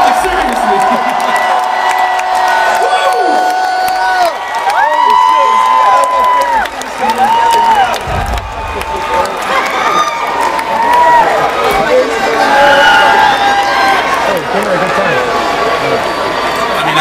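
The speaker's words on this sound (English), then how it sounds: "Honestly, you can still keep clapping." A live concert crowd claps, cheers and whoops loudly throughout, while someone talks over the noise at close range.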